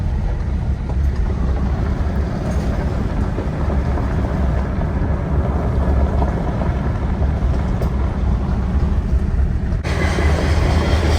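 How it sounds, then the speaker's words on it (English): A train rolls along beside a road in rural West Virginia, a loud, continuous low rumble and roar that holds steady throughout. "Train running right along the road here."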